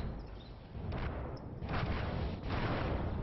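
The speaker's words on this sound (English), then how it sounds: "But I'm gonna reload and shoot him." SPG artillery gun firing in World of Tanks, a deep booming blast followed by rolling rumble, with further heavy thuds layered over a dense, loud low-end roar.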